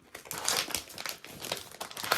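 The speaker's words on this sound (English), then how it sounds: "Sorry about the rustling of the bag." A plastic bag rustles and crinkles close up during cash envelope stuffing, in irregular crackly bursts that rise and fall over a couple of seconds, with no talking.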